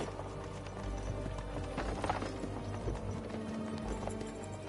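Horses' hooves clip-clop steadily in Kingdom Come: Deliverance 2, a medieval role-playing game, with a rhythmic trot over a bed of background sound, plus faint creaks and rattles.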